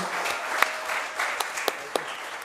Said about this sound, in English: Please give the Australian team applause for winning the FIBA Asia Cup